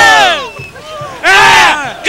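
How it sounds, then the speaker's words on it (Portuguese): Corinthians supporters chant loudly in unison at a 1997 Paulista championship celebration, a big crowd of voices surging in two rhythmic waves with a brief dip between them. "E olha aí o grito da torcida"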